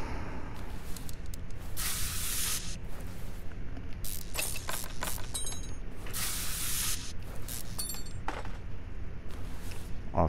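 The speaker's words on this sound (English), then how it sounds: "we're going to take out the drive shaft. Well, unfreeze the bolts." Virtual garage work on a small-block Chevy Nova in Car Mechanic Simulator 2021 as drive shaft bolts are loosened: repeated bursts of hissing power-tool spin and ratcheting clicks over a steady mechanical hum.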